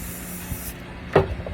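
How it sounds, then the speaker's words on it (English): A spray paint can hisses out black paint onto a 22 x 28 inch spray paint art piece in one short, close burst of spray, with no talking. "Spray a little black over here on the side"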